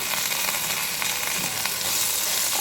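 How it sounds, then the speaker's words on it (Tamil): Curry leaves and softened onions fry in a pan for a South Indian chutney, giving a steady, close hiss of sizzling oil with faint crackles and no voices. "இப்போ கருவேப்பிலை ஆட் பண்ணி நல்லா ஃப்ரை பண்ணிக்கலாம்"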